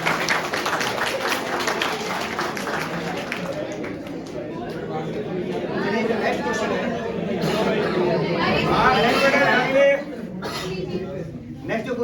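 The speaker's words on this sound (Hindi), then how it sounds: "इसके तालियों में कंजूसी नहीं" Audience applause at a Hemu Kalani martyrdom day event in Bikaner: brisk clapping in the opening seconds, followed by loud crowd chatter and talking.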